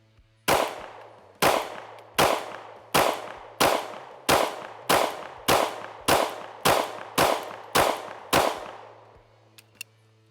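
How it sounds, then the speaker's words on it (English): Eleven sharp, loud CZ P-10C pistol shots fire one after another at an even pace about a second apart, each with a short ringing decay, followed by a faint metallic tick. "So let's shoot that CZ P10C, the original one."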